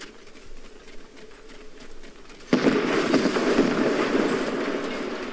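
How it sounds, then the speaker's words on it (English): Remote explosives go off against structures in Fortnite, a sudden loud burst halfway through that gives way to sustained crackling, rumbling debris and collapse, after quieter clattering game ambience. "So that's how you get to destroy structures with remote explosives."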